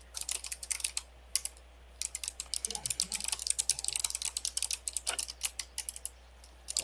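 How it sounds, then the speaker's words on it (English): Fingers type rapidly on a mechanical keyboard, a sharp clicky stream of keystrokes in irregular bursts with brief pauses, close and fairly quiet over a low steady hum. "I feel like someone that's typing every word that Solo's saying."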